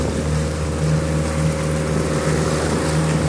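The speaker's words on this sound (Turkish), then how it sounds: "Deniz biraz çalkalıyor, rüzgar kafadan geliyor fakat rüzgar hafif." A sailboat motors through choppy sea into a light headwind, a loud, steady engine drone with a low hum, water wash and wind noise, heard close from on deck.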